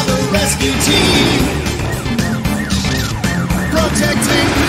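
Wailing fire engine sirens in a Pocoyo cartoon sweep up and down repeatedly over loud, busy music, close and prominent throughout.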